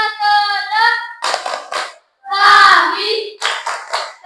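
A grade 6 class of children chant together in a classroom, their voices loud and close in short rhythmic phrases broken by bursts of hand claps and a brief pause.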